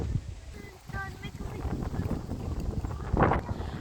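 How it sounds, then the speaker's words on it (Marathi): Steady wind rumbles and gusts throughout at the Norfolk tulip garden in England on a cold day with light rain, with a stronger rush near the end and faint voices underneath. "थोडा थोडा पाऊस पण सुरू झाला आहे, थंडी पण आहे, वारा पण आहे"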